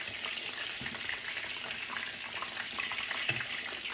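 Breaded Parmos fry in hot oil with a steady, dense sizzle and crackle, close and fairly quiet, with no talking.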